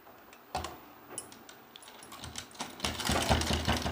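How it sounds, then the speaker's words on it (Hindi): A sewing machine stitches a cloth strip onto a homemade baby nappy, its rapid needle chatter starting in short bursts and then running steadily louder, close by with no talk. "इस तरह ऐसे रख के इसके ऊपर एक सिलाई लगाना है मजबूती से ताकि ये निकले ना"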